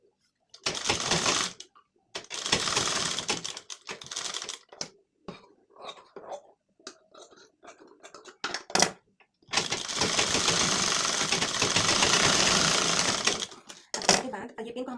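A sewing machine runs in bursts while stitching tucks on a blouse, loud close whirring stretches separated by pauses with handling clicks and rustles.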